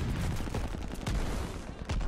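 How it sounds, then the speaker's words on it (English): Akimbo double-barrel shotguns firing in Call of Duty: Vanguard, a rapid cluster of heavy booming blasts packed tightly together, loud and close, mixed with dense in-game battle noise. "the AKIMBO double barrel shotgun"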